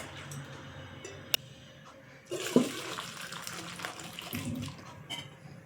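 Cold water splashes over freshly strained pasta in a kitchen, starting with a sharp tick and then a steady, close pouring rush that lasts several seconds.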